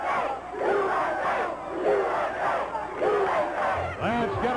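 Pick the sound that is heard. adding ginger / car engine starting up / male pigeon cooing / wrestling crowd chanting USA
wrestling crowd chanting USA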